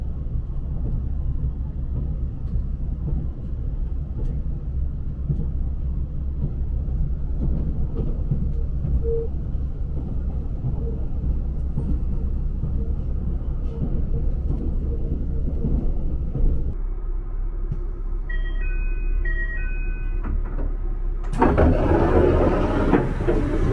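Continuous low rumble and rattle of a train on the Sekisho Line in Hokkaido, rolling along the rails as it arrives at a station, steady throughout, ending with a brighter burst of noise near the end.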